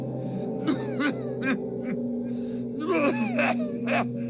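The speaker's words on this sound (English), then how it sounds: "all that emerges is a series of violent coughs" Violent coughing fit from a dying man in the Pillars of Eternity video game, a run of several harsh coughs and gasps over a steady low game hum.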